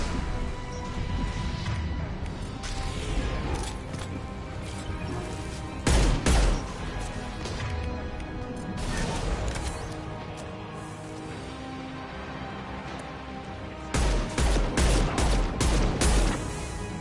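Bursts of gunfire in Mass Effect 2, loud clustered volleys of shots and impacts recurring through a continuous noisy combat din, with heavier blasts at intervals.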